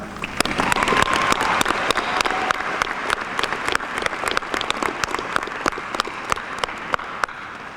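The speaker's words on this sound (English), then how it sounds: "Please help me to give all of these supporting people a round of applause." Graduation audience at a high school ceremony applauding supporters, a dense, steady round of many hands clapping with sharp individual claps standing out, loud and close throughout with no talking.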